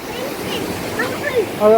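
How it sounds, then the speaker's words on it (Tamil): Water rushes steadily at Thirukurungudi Nambi Malai Falls, a loud broadband wash heard up close, with a person talking over it. "சூப்பராக தண்ணி நல்லா அழகாக போயிட்டுருக்கு மக்களே பாருங்க எப்படி போயிட்டுருக்கு"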